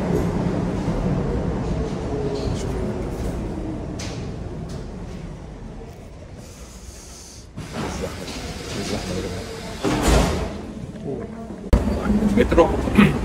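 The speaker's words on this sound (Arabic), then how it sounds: "مترو" A metro train in Budapest, a loud rumbling ride that eases to a quieter hiss, then doors, clunks and rising machinery noise near the end, with a voice talking at points.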